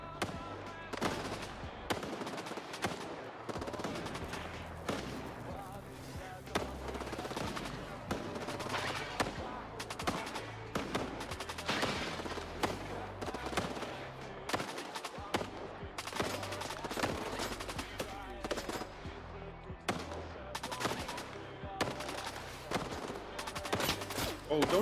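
Sustained gunfire in S.T.A.L.K.E.R. 2 crackles almost continuously, with dense rapid bursts and individual sharp reports at varying distances over a long stretch.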